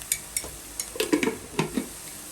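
Ginger garlic paste and turmeric fry in a pan for a Kerala-style sardine curry. A spoon makes a few close, quick stirring scrapes and clinks against the pan over a light sizzle, with no talk.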